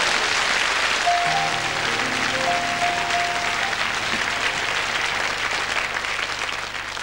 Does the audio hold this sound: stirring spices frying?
no